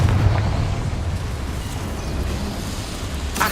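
Confringo fire spell blast in Hogwarts Legacy, a loud fiery burst at the start that rumbles on under continuous game ambience, with another sharp hit near the end.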